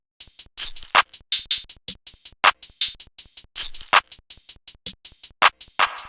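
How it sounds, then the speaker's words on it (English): Trap drum pattern programmed in FL Studio with clap, hi-hats and snare: a steady run of crisp, bright percussive hits, dense hat ticks with sharper claps and snares, loud and dry with no voice. "I added the following elements: a clap, a simple hi-hat pattern with a few low hats,"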